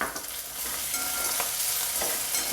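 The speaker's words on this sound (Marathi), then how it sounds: "आता एवढं फोडणीला कमी तेलात तळून घ्यायचं" Roasted poha chivda frying with garlic paste in a little oil, a steady close sizzle with soft scraping of stirring, no voices.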